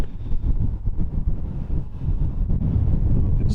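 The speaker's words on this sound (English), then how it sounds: "So a bit windy today." Wind buffets a microphone outdoors at a 1950s Cold War bunker in Britain, making a continuous low, rough rumble that gusts unevenly throughout, with no talking.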